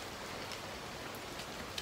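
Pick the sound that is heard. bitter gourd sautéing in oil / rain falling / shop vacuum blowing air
rain falling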